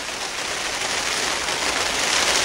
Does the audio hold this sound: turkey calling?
no